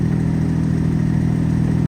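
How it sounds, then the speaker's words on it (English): A car or motorbike exhaust gives off a steady, throbbing low drone at a constant idle-like pace, loud and close with no talking over it. "What do you guys think of my exhaust?"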